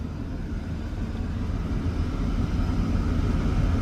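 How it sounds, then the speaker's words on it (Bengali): The deep engine of the large passenger launch M Khan 7 rumbles loud and close as it overtakes, a steady low drone that swells slightly over several seconds. "এই যে এখন আমাদের ওভারটেক করতেছে এম খান 7।"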